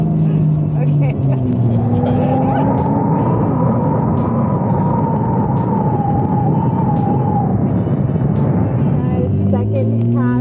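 Porsche 911 Turbo 992 accelerating hard in manual and Sport Plus mode, a loud, close engine that climbs steadily in pitch through the run, with voices talking over it.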